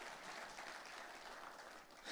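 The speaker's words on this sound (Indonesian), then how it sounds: "Kita kasih tepuk tangannya boleh yang paling meriah buat Tuhan kita." Church congregation applauding together, a dense, sustained wash of many hands clapping at moderate distance, steady throughout and rising slightly at the very end.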